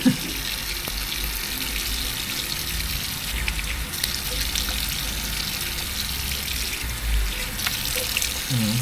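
Tap water runs steadily into a sink during a face wash at a budget salon, a continuous close splashing gush with brief handling splashes, no talk.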